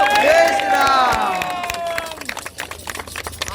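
At a hillside temple circumambulation event, a crowd claps for visiting sadhus and ashram heads under loud chanting and voices, with scattered claps going on as the voices fade.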